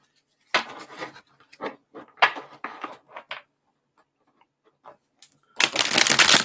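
Tarot cards are shuffled and riffled in quick bursts with short pauses, ending in a louder, dense riffle; close and clear, with no talking.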